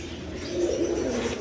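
Grizzle pigeon, a beauty-type bird kept for sale, cooing in a low, steady murmur for a moment, close by with no talking.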